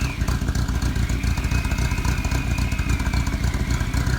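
An automotive engine idles with the number 2 spark plug wire pulled, giving a steady, rhythmic, slightly uneven low throb, close and constant with no talk.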